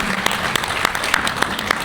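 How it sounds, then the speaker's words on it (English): Symposium attendees give a short, steady round of clapping, a moderate audience sound heard alone at a consistent level. "Round of applause for Caroline."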